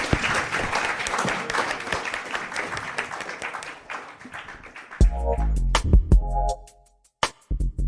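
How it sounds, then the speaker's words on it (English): An audience applauds speakers at a book event for debut novelists, with dense, steady clapping that thins into scattered individual claps before a different sound takes over near the end. "a big round of applause to all of our speakers so far"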